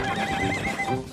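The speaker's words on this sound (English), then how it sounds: "Runaway horses!" Cartoon horses neigh in a loud, quavering whinny, with clip-clopping hooves mixed in during a runaway-horses scene.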